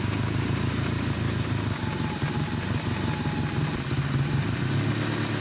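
A Subaru GL-10 with an EA82T turbo engine idles steadily under a vacuum test, a continuous even mechanical drone with a faint whine layered on top, close and fairly loud with no voices.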